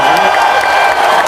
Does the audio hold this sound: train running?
no